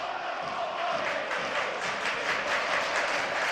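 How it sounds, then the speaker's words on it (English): A football crowd murmurs and buzzes steadily throughout a stadium during a Stockport County versus Oldham Athletic match, a dense, continuous wash of distant voices with faint cheering swells and no single dominant voice. "Well, there's certainly a buzz around the crowd now."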